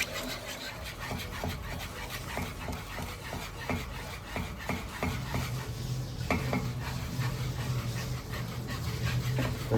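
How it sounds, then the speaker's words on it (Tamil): Bombay halwa stirred in a pan over a medium flame, a rhythmic series of scraping and tapping strokes of a spoon against metal under a faint sizzle, close by, with no speech. "நல்லாவே கிண்டி கொண்டுருங்க"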